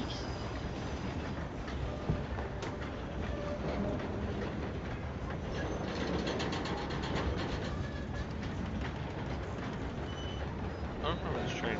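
A train runs on rails in a Western roleplay video game, a steady rumbling clatter that fills the whole stretch, with players talking over it.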